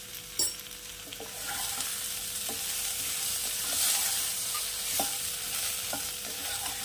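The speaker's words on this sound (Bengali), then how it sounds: "এবারে একটু ভাজা ভাজা করবো" Drumsticks dusted with turmeric fry in a pan for a Bengali dish, making a steady close sizzle broken by several distinct stirring scrapes and taps, with no voices.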